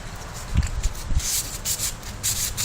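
Sandpaper rubbing back and forth over a wooden bow to prep it for a woodgrain finish, a close, steady scratchy friction with a few louder strokes and no talk.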